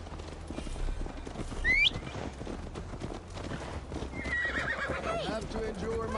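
A horse neighs and hooves clip-clop in the Viking-era game Assassin's Creed Valhalla. A rising whinny cuts through steady hoofbeats, with a second drawn-out whinny later, all under ongoing background talk and game ambience.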